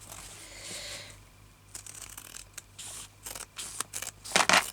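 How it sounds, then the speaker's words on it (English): A few crisp scissor snips cut a piece off embroidery fabric for a journal cover, close and fairly loud, building into a quick run of cuts near the end with no speech. "I'm going to cut a piece off this."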